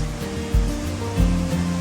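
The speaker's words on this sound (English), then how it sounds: "Got the nice sound of the brook roaring by." A brook roars past a hiking trail campsite near a cable crossing at Virgin Falls State Natural Area, a steady broadband rushing of water heard continuously and fairly close, with faint low thumps.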